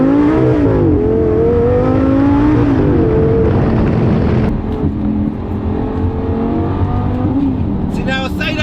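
A Stage 1 tuned Lamborghini Gallardo LP560 engine revs loudly and close while driving, its deep drone swelling and falling through the gears, with a brief voice at the very end.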